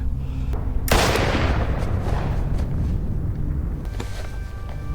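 A single loud gunshot from the finale of the TV drama Dexter cracks sharply near the one-second mark, then a dense rumbling low-end wash lingers and slowly fades, with no talking over it.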